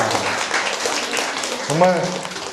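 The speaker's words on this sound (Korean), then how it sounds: "박수 한번 주시죠." Audience applause fills a Korean counseling psychology lecture hall, a steady wash of many hands clapping throughout, with a voice briefly exclaiming over it near the end.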